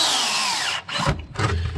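A power drill drives screws home in two quick whirring bursts with a short pause between them. The sound is close and loud, and there is no talking.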